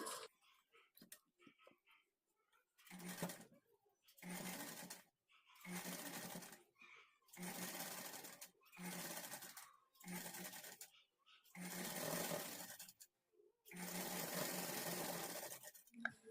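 A sewing machine stitches puff sleeves onto a garment's shoulder joint in a run of eight or nine close, evenly loud bursts separated by brief silences.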